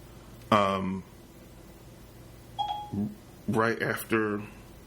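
On a muted phone, the voice assistant wakes with a brief electronic chime, set between stretches of someone talking nearby.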